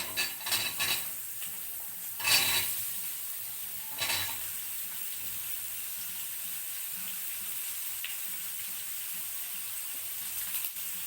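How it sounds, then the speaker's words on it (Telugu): Kohlrabi pieces frying in hot tempering oil, stirred with a utensil: a steady soft sizzle with a few louder scrapes and clinks near the start, then a quieter, even frying hiss with no voices. "పోపు వేగింది కాబట్టి ఇప్పుడు ఇందులోని ఈ కట్ చేసిన ఇవి వేసేస్తాం"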